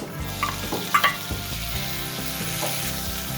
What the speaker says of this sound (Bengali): এবার আমি এর মধ্যে অ্যাড করে দিচ্ছি একটা মিডিয়াম সাইজের টমেটো কুচি